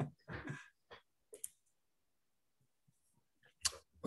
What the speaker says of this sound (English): So I can hear your keyboard